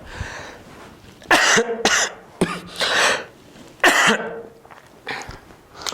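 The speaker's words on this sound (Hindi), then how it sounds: "गला खराब है, छींक तो जोड़ो, खांसी आ रही है" Several harsh, close coughs in short bursts, with brief pauses and some throat clearing between them.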